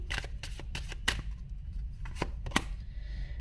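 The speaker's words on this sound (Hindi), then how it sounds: "सो आपके सामने ही कार्ड निकालूंगी" Tarot cards drawn and shuffled from a deck, with crisp papery flicks and slaps arriving in quick irregular bursts, close and fairly soft, with no talk.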